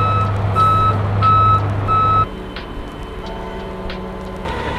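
Reversing beeps from a tow truck collecting a crashed BMW M2, loud evenly spaced tones over an idling engine that stop partway through, leaving the engine running alone.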